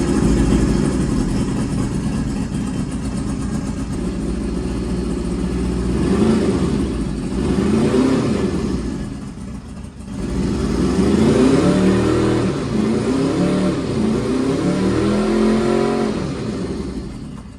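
A boat engine running close and loud, holding a steady idle before being revved up and down several times in rising and falling swells, with no talk over it.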